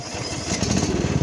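A Cub Cadet XT1 LT 42-inch lawn tractor with a Kohler 5400 series single-cylinder engine runs close by, a loud, steady, throbbing engine drone that swells slightly partway through.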